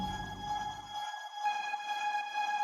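A steady synth drone in an FL Studio Afro House track hums on a fixed pitch with bright overtones, while a lower layer drops out briefly and returns thinner.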